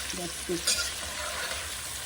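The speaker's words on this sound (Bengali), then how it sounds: "এই পেঁয়াজিটা একদম মতো লাল লাল করার পরে" Onions frying in a pan with steady sizzling and a few stirring scrapes, close by and continuous with no talk.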